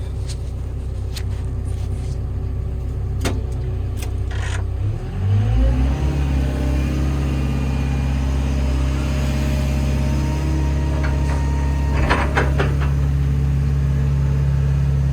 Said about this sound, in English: So what I'll do is I'll lift the machine up.